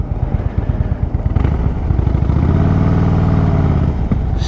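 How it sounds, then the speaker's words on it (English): Harley-Davidson Super Glide motorcycle engine under way on city roads, a loud, steady V-twin rumble that swells into a sustained throaty drone midway through, with no voices over it. "Sound of that engine though"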